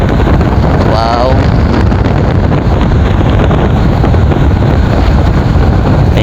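Strong wind roars continuously over the microphone on a moving boat near Cataingan, Masbate, with loud, unbroken broadband buffeting and a brief whistling tone early on; a voice is faintly mixed in.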